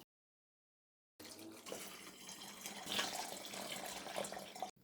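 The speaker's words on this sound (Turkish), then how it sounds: "Üzerine de doluncaya kadar içme suyu koyuyorum." Drinking water runs into a container of Adana-style spicy turnip brine, starting after a brief silence and then flowing as a steady, moderately close splashing stream with no talk.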